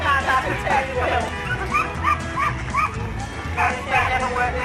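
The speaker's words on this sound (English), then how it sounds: "So we've got 3 dogs here all working." Three working sheepdogs bark during a demonstration at the 2000 Ramsbottom Millennium Festival, with repeated short yips and barks at a moderate distance under near-continuous talking.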